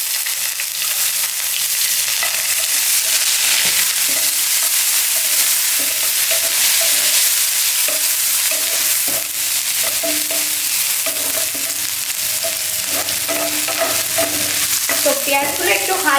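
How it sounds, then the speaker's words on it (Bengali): Chopped onions with dried chillies frying and being stirred in a pan, a steady close sizzle with scraping and stirring clicks throughout, no talk. "দুটো শুকনো লঙ্কা, এবার দিয়ে দেবো কুচি করা পেঁয়াজ"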